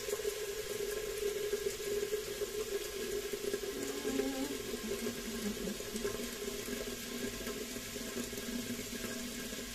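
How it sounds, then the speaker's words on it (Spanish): Warm water runs steadily from a kitchen tap, a continuous rushing stream that stays even and close for the whole stretch, with no one talking. "Primero voy a poner el agua tibia, ¿eh?"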